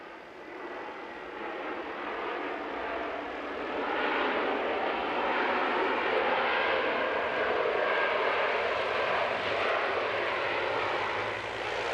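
A Jetstar aircraft at Christchurch International Airport sends out a steady, broad engine roar that swells gradually and holds, heard from a moderate distance with no voices.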